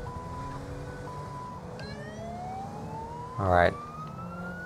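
Police car siren in the video game GTA V, using the Siren Mastery mod, wailing tones sliding upward under steady engine and traffic noise, with a short spoken word interrupting near the end.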